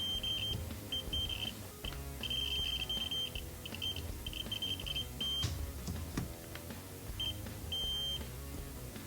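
A multimeter gives repeated short continuity beeps, bursts of varying length, while the switch on a Rams Head Big Muff guitar pedal is probed. The beeps are faint and sit over a low background hum, with no talking.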